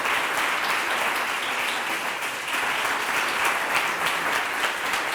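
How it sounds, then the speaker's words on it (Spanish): Audience applause at the close of a physics talk on gamma-ray astronomy, a dense steady round of clapping from a crowd lasting the whole stretch with no speech. "Un aplauso también a Miguel Ángel, por favor."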